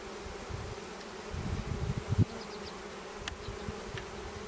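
Honeybee drones buzz steadily at a hive during a spring colony inspection, a continuous low drone that swells louder midway, with faint higher insect whines flickering above.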